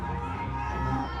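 A boxing event crowd roars in steady, dense cheering and shouting, a loud continuous wall of voices with no breaks, some children's shouts mixed in.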